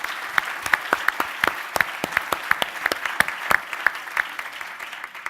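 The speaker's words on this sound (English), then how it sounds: "Round of applause for Bill, please." Audience applauds after a co-working panel talk, a steady run of sharp, fairly regular claps up close over a thinner patter of other hands.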